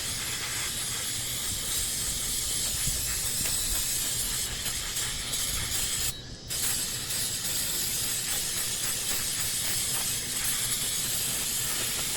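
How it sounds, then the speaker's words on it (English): An aerosol can of brake cleaner sprays in a long, loud, continuous hiss up close, pausing briefly partway through before hissing on again. "there's still some left in the can of brake cleaner, so I'll get what I can out"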